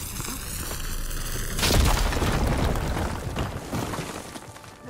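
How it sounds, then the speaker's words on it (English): Fire gleam blown up in the Horizon video game, a sudden booming explosion followed by a crackling, rumbling burn that slowly fades. "Should be able to blow up that fire gleam."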